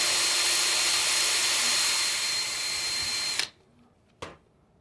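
A power tool grinds and polishes a stone with a steady high whine that cuts off abruptly, followed by a short final burst before near silence.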